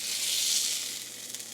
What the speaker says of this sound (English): Since this one's sizzling a little more, we're going to check it a little early.